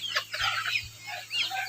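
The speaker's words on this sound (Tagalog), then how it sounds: "Andito na po yung mga alaga naming mga pato, manok." Pet chickens and ducks in a village yard cluck and squawk in quick close bursts, a lively scatter of fowl calls with no talking.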